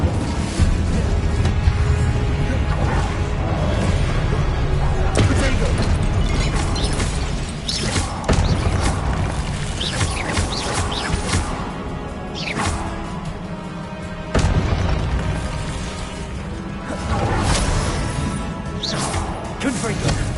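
Incendio fire spell cast in Hogwarts Legacy, loud whooshing bursts and crashing booms layered over game music and effects, running continuously with a voice calling out spell names over the top.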